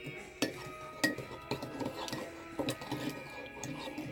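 A spoon stirs a dirty chai mocha made with chocolate almond milk and instant coffee, clinking rhythmically against the cup roughly every half second, close by, with no talking.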